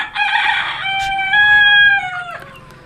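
On a Fayoumi chicken farm, a rooster crows loudly and close by in one drawn-out call while hens cluck faintly in the background.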